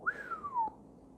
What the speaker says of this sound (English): Newman whistled.